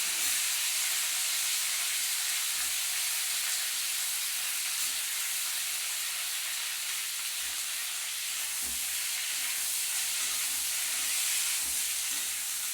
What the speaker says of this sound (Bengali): সর্ষে তেলে আমি সর্ষে ফোড়ন দিয়ে ভেজিটাকে আগে নুন হলুদ দিয়ে ভালো করে ভেজে নিচ্ছি